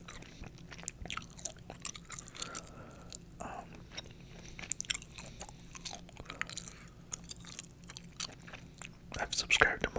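Gum chewing sounds close up as soft, wet, irregular clicks and smacks, mixed with quiet whispered talking throughout.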